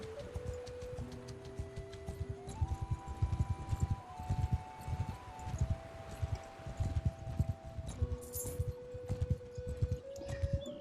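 Horse hooves clip-clop in a steady walking rhythm in the game Mount and Blade II: Bannerlord, set against soft sustained musical tones at low volume.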